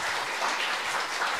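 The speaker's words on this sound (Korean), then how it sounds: "큰 박수 부탁드립니다." Dense audience applause at an anniversary seminar of the Korean Women's Development Institute, steady and close throughout the short stretch with no voices over it.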